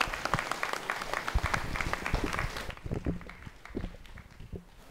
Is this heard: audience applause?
yes